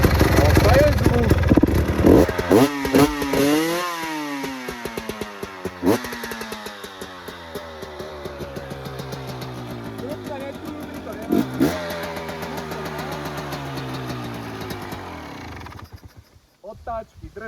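A motorcycle engine run on 100-octane fuel starts and revs, its rising and falling whine sweeping up and down in repeated throttle blips, then settles into a steady idle before cutting off near the end.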